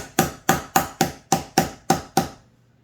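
Eight sharp blows from a clamp hammer in a steady, even rhythm, close and crisp, then silence.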